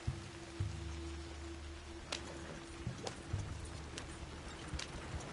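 Hooves of a galloping horse in a video game thud in an uneven rhythm alongside a soft patter resembling rain, with a few sharper clicks standing out over a low, steady ambient hum.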